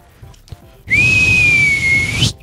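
A person whistles one sustained, steady high note for about a second and a half, loud and close, with faint background noise before it begins.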